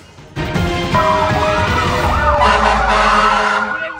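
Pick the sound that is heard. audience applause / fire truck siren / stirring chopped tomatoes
fire truck siren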